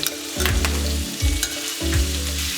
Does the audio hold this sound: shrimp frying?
yes